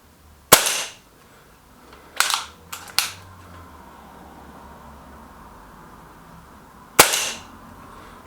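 A Milbro Guardian air pistol fires about five sharp, close cracks at uneven intervals, two of them in quick succession, with quiet gaps between shots.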